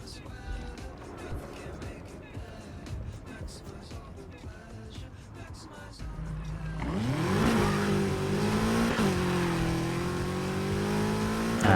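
A car in the racing video game Need for Speed Heat drives along, its engine revving up strongly and rising in pitch in the second half, following quieter, busier game sounds.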